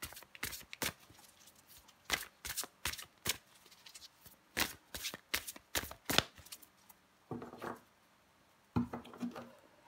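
Playing cards being shuffled and drawn for a reading, a series of close, crisp riffling and flicking bursts separated by short pauses.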